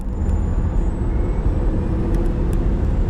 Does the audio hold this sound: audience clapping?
no